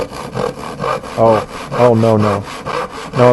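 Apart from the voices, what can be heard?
saw sawing sound effect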